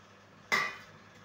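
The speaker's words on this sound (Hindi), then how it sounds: "सबको हमने डाल दिया, अच्छी तरीके से सबको मिक्स कर लेते हैं।" A single clink of a utensil against a pan while bottle gourd breakfast ingredients are mixed, one sharp metallic tap that fades quickly in a quiet kitchen.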